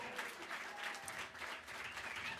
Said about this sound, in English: A big round of applause for Joaquin Cooter.